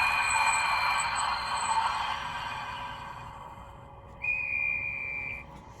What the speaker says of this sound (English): F16 is the classic conductor whistle.